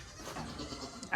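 A goat bleats once in a farm stall, a short wavering cry heard up close and moderately loud with no talking.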